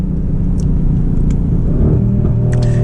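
A Mercedes GLC 63 AMG with a 4-liter turbocharged V8 drones steadily from inside the cabin, a loud low rumble that rises slightly in pitch as it pulls, with faint rattles.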